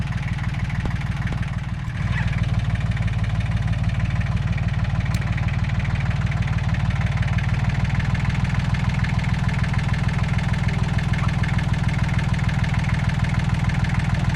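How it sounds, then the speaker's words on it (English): A tractor engine idling close by, a loud steady low chugging rumble with an even rapid pulse that holds throughout after a brief dip near the start. "put the tractor out of gear before you rev that"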